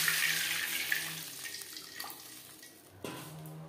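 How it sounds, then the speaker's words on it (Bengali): Water is poured into a cooking pot while vegetarian Gobindobhog rice khichuri is made, after potatoes have been fried. A steady, close hiss of running water fades a little and is followed by a soft clink near the end. "দিয়ে দেবো জল।"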